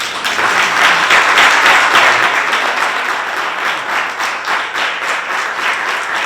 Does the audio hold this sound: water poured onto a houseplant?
no